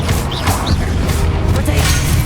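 A Confringo blasting spell explodes in Hogwarts Legacy, a loud dense crash and rumble that fills the whole short moment with broadband noise and sharp whooshing bursts.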